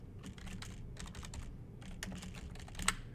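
Steady typing on a computer keyboard while entering a git commit message, a continuous run of close, light key clicks in uneven clusters with one sharper keystroke near the end.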